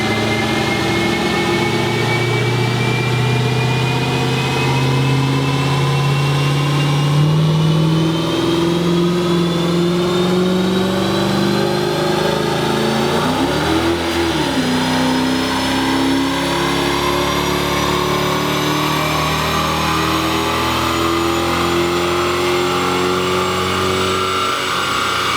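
A lowered, slammed car sits on a dyno with its engine droning steadily, the pitch slowly climbing through a long continuous pull with a brief wobble midway, loud and close throughout.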